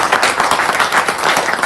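An audience at a BJP induction event in Kurukshetra claps loudly to welcome Pawan into the party, a dense, steady burst of applause close by with no voices over it.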